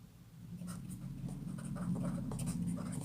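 A pen scratches out a written maths answer in quick faint strokes, close to the microphone over a low steady room hum.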